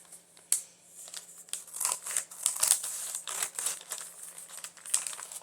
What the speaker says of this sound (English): I think that I will cut off this bottom part.